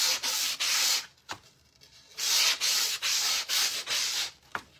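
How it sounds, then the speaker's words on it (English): Coarse 80-grit sandpaper rubbing back and forth on wood in several long, steady strokes, with brief pauses between passes; close and fairly loud. "I'm taking the 80 grit sandpaper and just sanding this a little bit."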